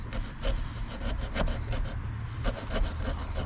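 A dull-toothed hand saw cuts through drywall with steady rhythmic push strokes, a dry rasping scrape repeating about every half second, close and alone without talk.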